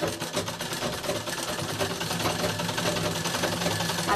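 A sewing machine runs steadily, stitching a velvet blouse with a continuous fast mechanical whir and rapid needle ticking that stays close and even, with no talk.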